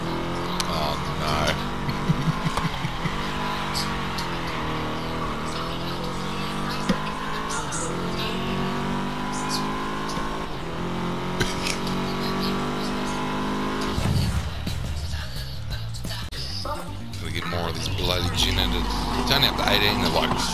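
Ginetta race car in a racing video game revs and shifts through the gears, a close, continuous engine whine rising and falling under a commentator's steady talk, with a sudden drop in engine pitch late on.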